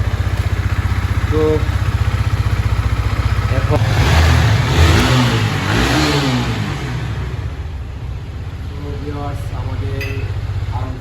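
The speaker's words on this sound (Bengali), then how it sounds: "এখন আমরা ইঞ্জিনের সাউন্ড শোনার অপেক্ষায় আছি।" A Yamaha R15 V3 motorcycle engine, just repaired, runs loudly throughout, with a rising rev burst in the middle before settling back to a steady idle, while a voice speaks briefly near the start.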